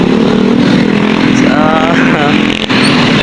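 A Suzuki Raider 150 motorcycle engine revs up and down briefly, its rising pitch sweeping under loud conversational talk nearby.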